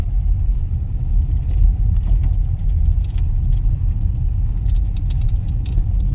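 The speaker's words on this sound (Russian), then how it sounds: "по брусчатке едем" Car rolling over cobblestone pavement, a continuous rough low rumble of tires and engine inside the cabin, with faint rattles and no speech.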